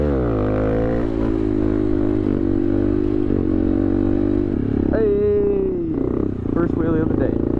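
KTM motorcycle engine revving hard during a wheelie, a loud continuous drone that climbs in pitch, then briefly dips and surges again, with a voice shouting over it near the end.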